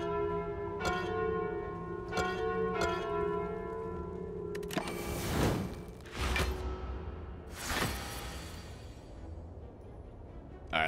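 A bell in a relic-based video game rings out in a series of clear, resonant strikes, a few evenly spaced tolls followed by whooshing, crashing effects and further ringing hits, all loud and close with no voices.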